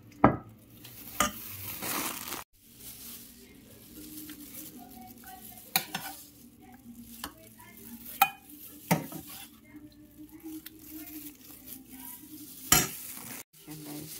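Meat sizzles quietly in a pan while a utensil stirs and scrapes, with intermittent clinks of metal against the cookware.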